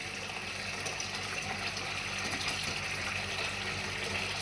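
Water pours steadily onto a potted plant in hot weather, a continuous gushing, splashing wash heard close and moderately quiet, with no talking over it.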